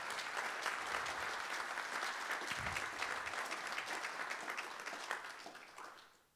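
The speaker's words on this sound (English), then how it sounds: "So let's give them a round of applause." Warm applause from guests at a career celebration dinner, fairly soft and distant, sustained clapping that tapers off at the close.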